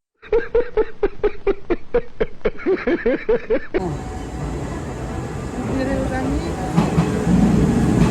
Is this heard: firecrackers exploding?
no